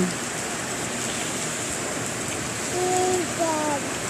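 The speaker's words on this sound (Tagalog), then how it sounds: "ngayon biglang umulan" Sudden rain after a hot day falls as a steady, soft hiss, with faint bird chirps toward the end.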